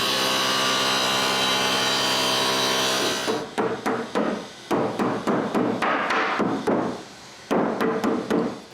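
Power tool cutting a groove in wood pieces, a steady loud whine for about three seconds, then a run of short rhythmic cutting bursts and knocks, near and alone.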